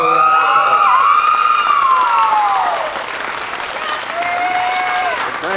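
Loud, sustained crowd applause rises for a grand champion at a 2023 swine show. Shrill, sliding tonal squeals or whistles ride over it before the clapping eases slightly.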